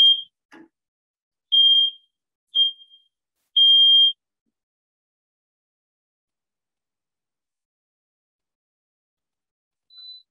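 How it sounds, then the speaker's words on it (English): An overly sensitive home smoke alarm sounds in short, shrill beeps, four of them in the first few seconds at uneven spacing, then a long silence before one fainter final chirp. "My fire alarm's really sensitive."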